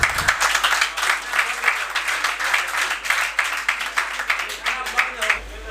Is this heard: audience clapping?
yes